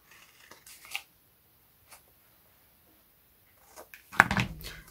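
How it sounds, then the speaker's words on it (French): Paper for a wedding album page is cut on a bevel with quiet snips and rustles, ending in a louder crisp burst of handling close by. "en passant par la pointe que forment vos deux plis. Vous venez biseauter ici."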